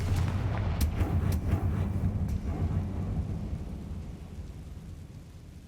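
Confringo spell blast in the Hogwarts Legacy video game, a heavy booming explosion that rumbles loud at first and then slowly fades out over several seconds, with no talking.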